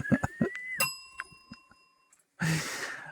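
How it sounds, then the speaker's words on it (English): A bell dinged several times during a podcast recording, giving bright ringing tones that hold and fade, followed after a short gap by a burst of broadband noise. "I just dinged the bell."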